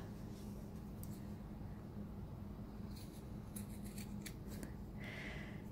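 Scissors snip through crochet yarn in a few quick, faint cuts near the end, set against a steady low background hum in a quiet indoor space.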